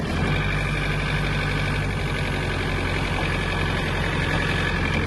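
A Japanese Mitsubishi MT-26 mini tractor engine runs steadily at a low, idling rumble while manoeuvring, with a continuous drone close by and no voices.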